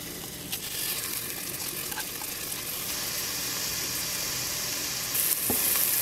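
Washed basmati rice sizzles and fries steadily in hot oil for egg fried rice, a dense continuous crackle close up with faint stirring, no voices.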